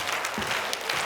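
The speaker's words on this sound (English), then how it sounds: "let's just start clapping your hands" A large conference audience stands and claps hands together, a dense, loud, continuous patter of applause filling the room.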